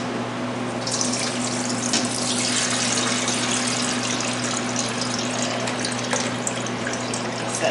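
Soaked seaweed for Korean miyeok guk being drained into a kitchen strainer: a continuous splashing gush of water pouring and trickling through the mesh for several seconds, steady and close, with no talk.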